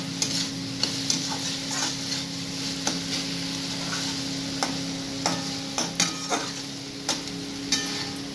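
Rice being stirred in a hot pan, a steady sizzle under repeated sharp scraping taps of the spoon against the pan, close and clear with no talk.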